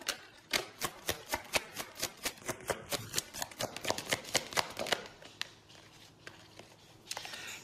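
Tarot cards are shuffled by hand in a quiet room, a rapid rhythmic series of crisp riffling snaps that slows and thins toward the end.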